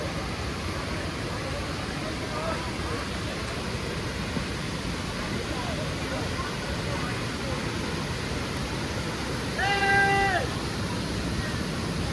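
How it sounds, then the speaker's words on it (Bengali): Devkund waterfall in Odisha gives a steady, full rushing roar that stays constant throughout, with a brief tonal sound rising over it near the end. "এই হচ্ছে দেবকুণ্ড, ঝর্ণাটা দেখিয়ে দিলাম।"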